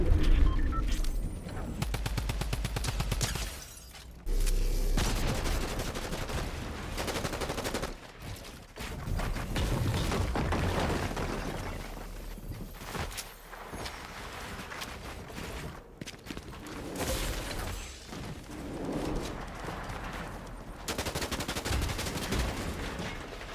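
Rapid bursts of automatic gunfire from Fortnite gameplay rattle out repeatedly over about twenty seconds, with brief pauses between volleys and loud, dense shots dominating throughout.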